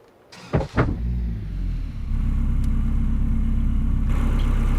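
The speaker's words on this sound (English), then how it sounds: "I'm going to go ahead and drive the car up there and meet him." A car in Farming Simulator 25 starts with a couple of thumps and then settles into a low, steady engine rumble while driving, close and continuous, with no speech.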